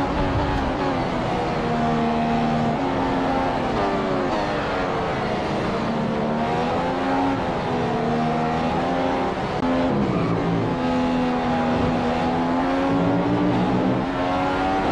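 Formula 1 race car engines in the F1 2015 video game howl continuously at high revs, pitch rising and dipping through gear changes, loud and steady throughout with no talking.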